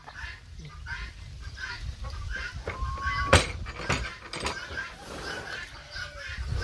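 Busy poultry calls, clucks and honk-like squawks, over a steady noisy background, with a sharp loud burst in the middle.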